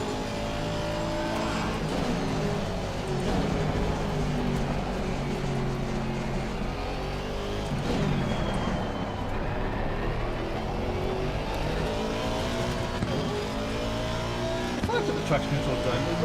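Race car engine lapping in a racing video game: a steady droning engine note rising and falling through gear changes and corners, with tyre noise, continuous under someone talking throughout.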